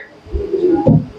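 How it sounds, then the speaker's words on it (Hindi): A pigeon coos up close, a short soft throaty call of a couple of low notes, heard on its own. "कबूतरी"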